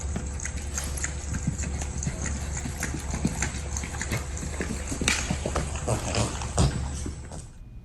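A five-year-old registered Missouri Fox Trotter horse with three socks steps along a trail, hooves clip-clopping in a steady, even gait close by over constant outdoor rumble.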